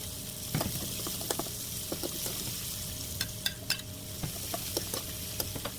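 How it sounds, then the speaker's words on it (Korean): Vegetables stir-frying in plenty of oil with garlic and spicy chili, for a spicy squid stir-fry: a steady close sizzle with repeated clinks and scrapes of a utensil stirring through the pan, no voices. "준비한 야채를 먼저 볶아요"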